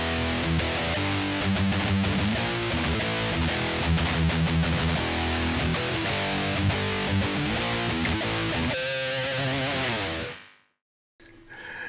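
Electric guitar played through the line out of a Line 6/Bogner HD-100 amp, power amp section only with no cabinet simulation, giving a dense, harsh and fizzy distorted tone that rings continuously for about ten seconds before cutting off abruptly.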